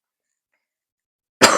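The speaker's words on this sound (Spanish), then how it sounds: "solo era tos, tos, tos y más tos" A single short cough bursts out at the end after a long silence, from someone who had been coughing persistently for a week while training for the 2025 Madrid Marathon.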